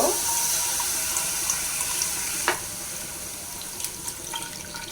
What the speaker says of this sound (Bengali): কি অল্প একটু পানি দিয়ে দিলাম